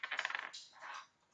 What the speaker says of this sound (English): So I'm going to roll my dice.